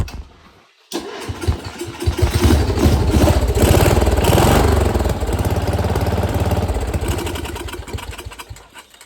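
A Briggs engine on a custom lawnmower sputters to life after a brief silence, then runs loud and close with a rough, chugging idle that swells and settles.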